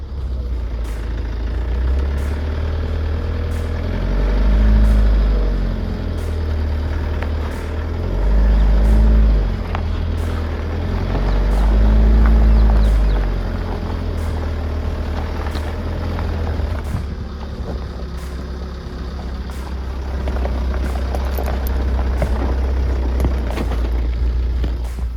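Tata Safari Storm 4x4 engine labouring off-road in low gear on sand, a steady heavy rumble that swells and jerks in surges, loud and close with no talk.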